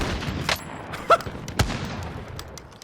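Gunfire in a Halloween zombie-mode video game: a few sharp shots and a bursting hit scattered over a short stretch, moderately loud against a low background rumble, with no one talking.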